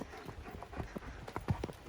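Horse hooves clip-clop at an uneven walking pace on a trail, a string of soft close thuds with a few heavier strikes, while riders talk faintly in the background.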